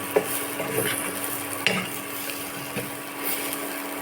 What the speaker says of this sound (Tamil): ஒரு ரெண்டு மூணு நிமிஷம் நல்லா கலந்து கொடுத்துட்டே இருக்கணும் ஃப்ரை பண்ணிகிட்டே இருக்கணும்